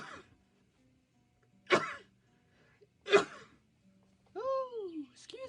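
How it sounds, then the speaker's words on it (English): A woman sneezes twice in quick succession, close and fairly loud, with quiet pauses between them. A short vocal sound and a sigh follow at the end. "I'm going to sneeze, excuse me."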